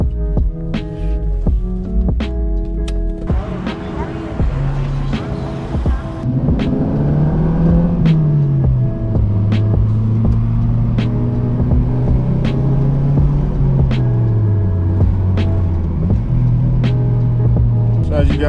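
A Wagon car with a check engine light cranks with a rhythmic whirring starter, then the engine catches and settles into a loud, steady idle that wavers slightly, heard close with no talk over it.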